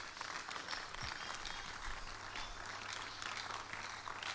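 A church congregation at a prayer service claps in praise, a dense, even wash of applause that sounds somewhat distant and soft and runs without pause throughout.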